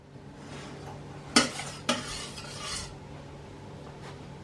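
A spoon stirs milk heating toward a boil in a saucepan, giving two sharp scrapes and clinks against the pan near the middle, then a soft swishing over a quiet background.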